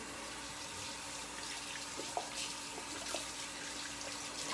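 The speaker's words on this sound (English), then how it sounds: "wash my hands again" In a kitchen, a faucet runs for washing hands, a soft, steady trickle of water with a few faint clinks and knocks, quiet and without talk.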